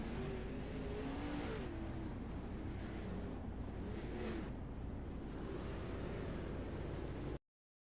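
Dirt late model race cars in an iRacing sim at Port Royal, a steady, loud engine roar from several cars circling the track, rising and falling slightly as they go around, with no talk.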